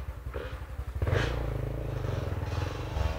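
A motorcycle engine idles nearby with a low, lumpy putter, picking up slightly after a brief clatter.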